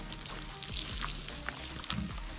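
Sun-warmed water poured from a watering can onto freshly sown zucchini, a steady splashing hiss that runs close and continuous for the whole stretch.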